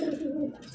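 A single soft, low pigeon coo, close and throaty, lasting under a second.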